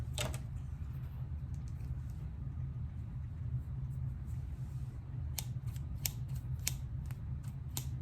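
Small 5 1/4-inch micro-serrated sewing snips with padded finger holes open and close in a few quick, crisp metallic clicks, mostly near the end, over a steady low room rumble with no talking.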